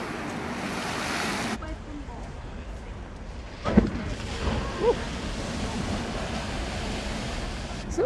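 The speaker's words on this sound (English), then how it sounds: "there's a big wave coming now" Ocean surf on a beach in Lisbon, Portugal, rushes steadily ashore, broken by wind buffeting the microphone, with a louder crash of a big wave partway through.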